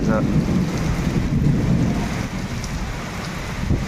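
Heavy unseasonal rain roars steadily with low rumbling underneath, thunder rolling through the downpour, with strong wind, in the Konkan.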